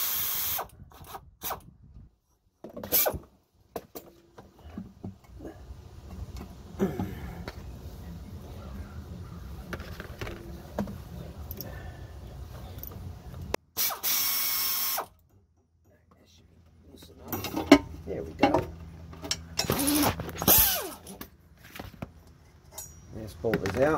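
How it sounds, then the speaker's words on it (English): Someone works a ratchet on a rear differential cover bolt of a 2006 GMC Envoy, giving short bursts of clicking and mechanical rattling with quiet pauses, while someone talks at times. "So I take and remove the cover here. Loosen this bolt a little bit more."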